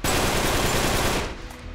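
Sustained automatic gunfire from a weapon in Uncharted 3, a loud dense burst of rapid shots lasting over a second before tailing off.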